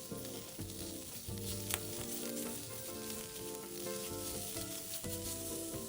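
Bitter gourd slices pan-fry slowly over low heat, producing a close, continuous hiss and sizzle with soft bubbling, alongside a faint steady tonal background.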